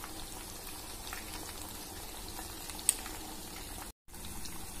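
Ghevar batter cooks over a high flame, giving a steady, soft bubbling and frying hiss that stays even throughout, with one tiny pop and a brief dropout near the end.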